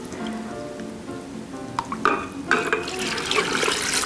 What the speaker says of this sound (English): Let's mix this up a little bit.